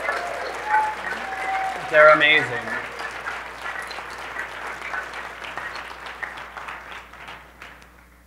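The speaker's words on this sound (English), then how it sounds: "deserve another round of applause" Audience applause at a live Love Wave event, a steady wash of clapping that rises and then slowly fades, with a voice talking over it.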